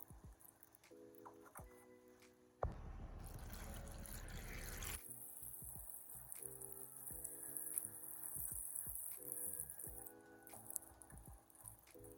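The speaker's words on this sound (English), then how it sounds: "I'm going to wash the lettuce with some salt water and also vinegar" Lettuce being rinsed in a bowl of salt water and vinegar, with a burst of running water and then splashing, trickling and squishing as the leaves are handled, close and fairly quiet.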